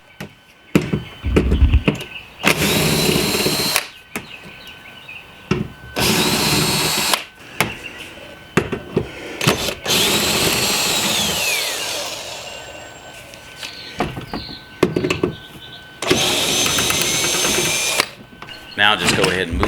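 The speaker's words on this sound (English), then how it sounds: "use a 10mm socket to remove 4 additional screws on the center panel" A power drill with a 10mm socket spins out screws from the center panel of a C7 Corvette, loud whirring bursts with ratcheting clicks, alternating with quieter gaps and a person talking.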